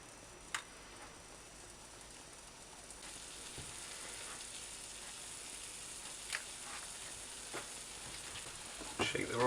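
Tomatoes and puree sizzle in a frying pan with prawns for prawns and rice: a soft, steady frying hiss runs throughout with occasional small pops and clicks, fairly quiet and without talk.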